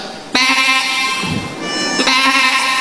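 A voice imitating a sheep, giving two loud, close bleats with a short pause between them.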